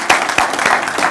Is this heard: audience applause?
yes